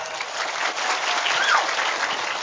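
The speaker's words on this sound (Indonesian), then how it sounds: "Ini luar biasa, tepuk tangan." A crowd at a Maulid Nabi religious gathering in a village applauds loudly. The clapping is dense and sustained, a continuous wash of hands with no break and no speech over it.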